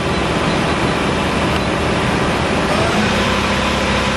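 A 2013 Okuma LB3000 EXII CNC lathe spindle turns at 1500 RPM, giving off a loud, steady machine whir and hum that never pauses, with a faint tone rising partway through.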